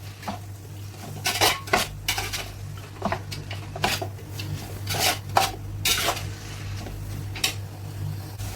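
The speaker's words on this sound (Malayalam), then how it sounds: "ചിക്കൻ നന്നായിട്ട് ഇളക്കി ചേർത്ത് കൊടുക്കാം" Large pieces of chicken, 1.5 kg for a chicken pulao, stirred in a metal pot, giving repeated scraping clinks and knocks of the spoon in an uneven rhythm over a steady low hum, close and clear.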